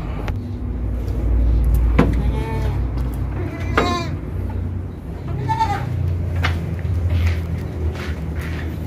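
Goats bleating in a farm pen where three male kid triplets are kept in a separate enclosure, several nearby wavering bleats over a constant low rumble of a passing vehicle or engine.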